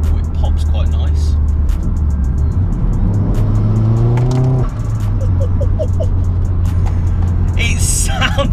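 Tuned stage 3.5 Vauxhall Astra VXR with about 297 bhp accelerating in sport mode, a loud steady engine drone rising in pitch through a gear, with a short whistle and pops, heard from inside the car alongside someone talking.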